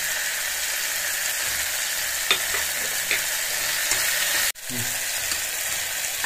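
Fenugreek leaves sizzle steadily in hot oil with tomato pieces for a methi and ridge gourd curry, a dense continuous crackle with a few spoon stirs, briefly cut off near the end before resuming.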